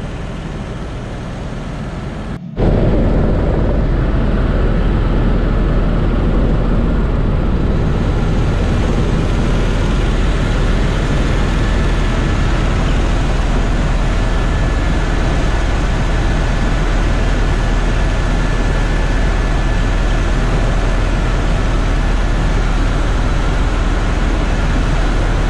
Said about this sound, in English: Chopper itself flying along here is going about 145 miles per hour.